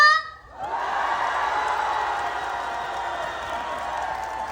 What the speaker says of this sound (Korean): 다 같이 박수 함성 한번 질러볼까요?